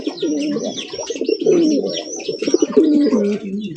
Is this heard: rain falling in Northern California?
no